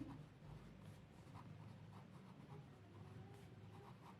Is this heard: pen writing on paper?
yes